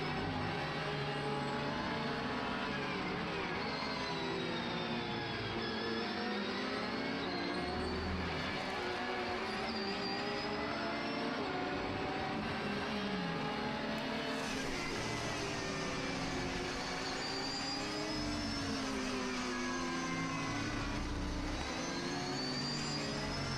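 Onboard a Porsche race car being pushed hard during a Japan Cup race at SUGO, the engine drones loud and continuous, its pitch rising and falling steadily through gear changes and corners.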